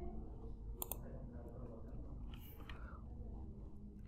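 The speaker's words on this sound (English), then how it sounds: "we click on import" A computer mouse clicks once, sharp and close, while importing a shared scan in the ThinkOrSwim trading platform, with a faint second tick later over a low steady room hum.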